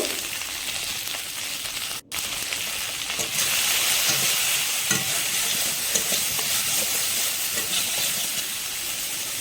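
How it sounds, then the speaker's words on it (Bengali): Okra fries in hot oil with salt and turmeric, a loud, continuous sizzle with stirring that fills the whole stretch. "ঢেঁড়সটাকে দিয়ে পরিমাণ মতন লবণ হলুদ দিয়ে ভালো করে ভাজবো"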